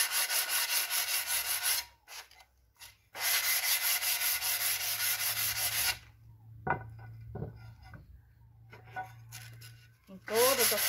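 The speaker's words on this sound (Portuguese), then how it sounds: "Eu gosto de lixar para poder evitar de se machucar." Sandpaper rubs back and forth over the cut pieces of a triangular vase, steady broadband scraping strokes in bursts separated by short pauses, close and fairly loud, with a few faint handling knocks between passes.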